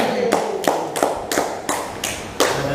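Hands clap in a slow, steady rhythm, seven distinct sharp claps spaced about a third of a second apart, close by with no talking.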